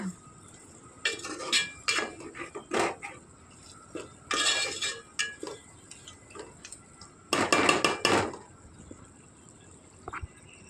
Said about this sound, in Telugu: కింద మాడిపోకుండా కలుపుకుంటూ ఉండండి